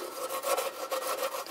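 Steady back-and-forth scrubbing of a metal automatic transmission oil pan from a Jeep Grand Cherokee WJ 4.7 with an abrasive pad, rhythmic rasping strokes, close and continuous with no talking.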